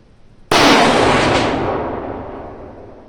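.308 Winchester rifle at a shooting range, one sharp loud shot with a long rolling echo that fades over about two and a half seconds.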